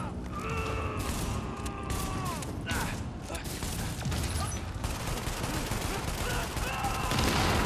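Rapid gunfire in the video game Tom Clancy's The Division, a dense continuous barrage of shots with mechanical clanks, while a voice briefly speaks over the firefight.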